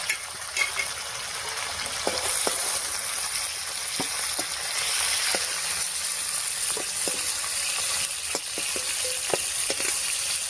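Live singi fish fry lightly in a pan of oil, with a steady close sizzle and occasional light taps and clinks of a utensil.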